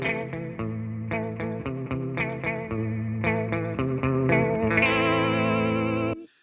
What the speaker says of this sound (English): I'm definitely going a little crazy on the modulation there, so it's really fast modulation